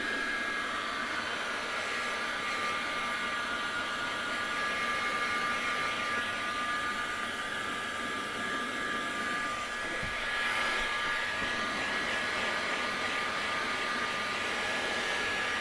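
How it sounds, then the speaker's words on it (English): A hot heat gun dries the carpet fibres inside a Suzuki Wagon R+. It blows with a loud, steady whine and rush of air close by, and the tone shifts slightly toward the end. "Don't go too close, as you will actually burn the carpet if you've got a really hot heat gun like I have."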